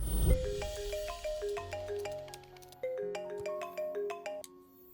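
Phone ringtone chimes out a bright melodic electronic tune of quick stepped notes, playing clearly and alone at moderate volume from start to finish.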